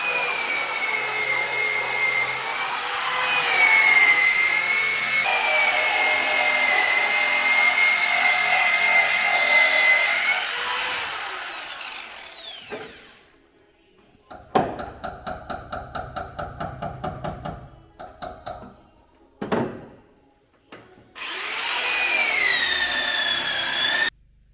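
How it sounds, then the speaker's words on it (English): A power tool removes a strut brace during a Ford Capri 3.0 restoration in a workshop. A loud, sustained whining drive runs for about twelve seconds, followed by bursts of rapid rattling impact-like hammering and then another long whine. "Just in the process now of removing this strut brace."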